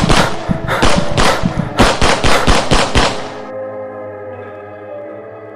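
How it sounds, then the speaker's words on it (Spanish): A rapid burst of loud gunshots at a cave entrance cracks out in quick succession for about three seconds, then fades into a low, lingering rumble. "Disparos y gritos de terror resonaron desde la entrada de la caverna."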